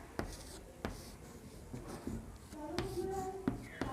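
Pen writing on paper gives close, quiet scratching strokes with a few sharp taps, while a voice speaks softly near the end.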